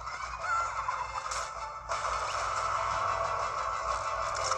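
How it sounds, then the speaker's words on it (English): A chicken in the Fortnite video game gives a continuous busy clucking and squawking that runs through the whole stretch at a fairly loud, steady level, with no talking over it. "Chicken."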